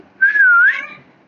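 A single whistle in a video game, one clear sliding tone lasting about half a second, loud and close, then fading out with nothing else around it.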